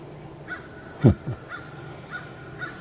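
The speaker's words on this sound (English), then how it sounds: "Crows are waking up." A few crow caws sound in the distance, with a brief nearer low thump in the middle.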